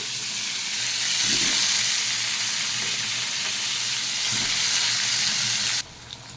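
Pointed gourd and potato pieces sizzle loudly in hot chili oil with whole cumin seeds, a steady hiss with a few stirring scrapes, then the sizzle drops sharply near the end.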